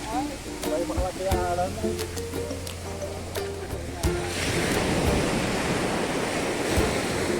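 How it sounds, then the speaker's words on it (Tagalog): Rushing surf and the roar of waves breaking, growing louder and steadier over the second half, with people talking in the first part. "laki ng alon ngayon"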